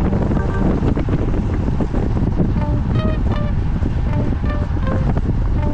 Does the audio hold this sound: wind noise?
yes